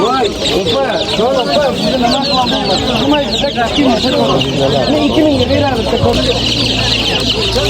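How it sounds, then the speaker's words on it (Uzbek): Tolay rooster and young hybrid chicks at a busy poultry market, clucking and peeping continuously and loudly up close while people talk among the birds. "To'lay xo'roz ekanda bu"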